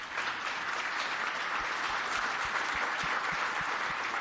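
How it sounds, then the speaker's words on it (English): Sustained round of applause from a conference audience at the SVG Summit 2021, a dense, even roar of many hands clapping continuously at steady loudness. "So definitely worth a round of applause"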